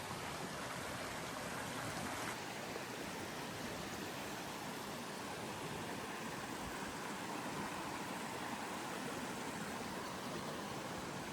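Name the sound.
stream of water flowing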